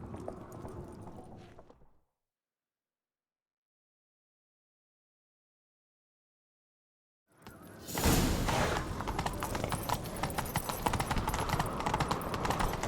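Horse hooves from The Witcher 3 video game pound loudly and steadily after a long silent gap, a dense galloping clatter with rushing movement noise, preceded by a brief quieter stretch of ambient game sound.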